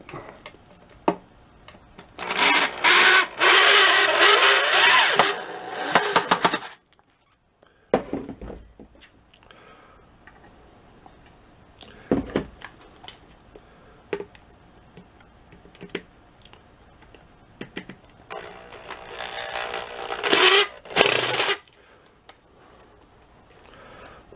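An electric drill about forty years old bores into a log birdhouse in two loud, rasping bursts with a whining motor, separated by quieter handling knocks and clatter.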